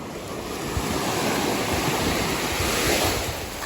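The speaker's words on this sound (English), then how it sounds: "This is the beach we got to. Definitely not really surfable." Ocean waves wash onto a Costa Rican beach with steady rushing surf, and wind buffets the microphone throughout at a moderately loud, continuous level with no talking.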